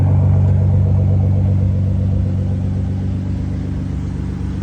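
A car engine revs with a strong, steady mid-range drone and hum, close and loud, holding even and easing slightly toward the end, with no talking over it.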